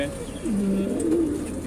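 A Lakhori pigeon cooing inside a loft, one low soft rolling coo close by over a steady background hum.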